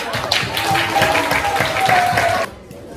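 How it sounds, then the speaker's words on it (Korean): Applause with some cheering fills a church Christmas show for children, the crowd noise steady and fairly loud before cutting off sharply near the end, with a faint sustained tone running underneath. "박수와 함성으로 맞이해주세요."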